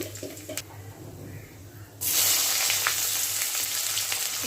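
Bay leaf, dried red chili, whole garam masala and cumin hitting a small amount of hot oil, a soft hiss that jumps midway into a loud, steady crackling sizzle, with no talking.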